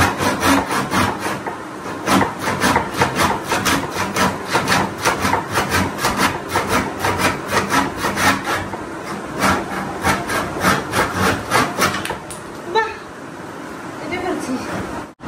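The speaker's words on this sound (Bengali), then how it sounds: "দেখছো সাকসেসফুলি এই যে 4টা পায়া কাটছি।" A hand saw cuts through the wooden legs of a piece of furniture in quick, even back-and-forth strokes. The rasping rhythm is close and loud for about twelve seconds, then breaks off, and voices talk over it.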